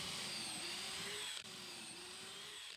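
A power drill boring pocket holes in wood, a sustained high whine running steadily, briefly cut off partway through and then resuming, close and loud with no talk.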